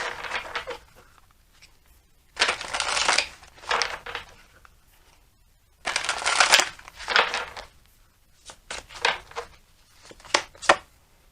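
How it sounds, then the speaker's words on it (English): Tarot cards shuffled by hand in bursts, crisp riffling and slapping of the deck coming in short clusters with quiet gaps between, close and clear with no voices. "I'm going to shuffle and see if we can pull another card."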